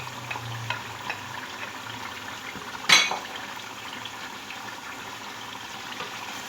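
Garlic, ginger and tomato paste frying in a pot, a soft continuous sizzle with light clinks and scrapes of a utensil and one sharp metallic knock partway through.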